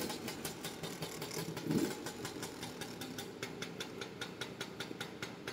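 A classic motorcycle engine runs at a steady idle, with a regular pulsing thump, close and moderately loud, within a collection of European classic vehicles.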